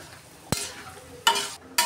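Radish and hilsa fish head cook in a pan for mula ghonto, with three short, sharp scraping stirs breaking over a faint background sizzle.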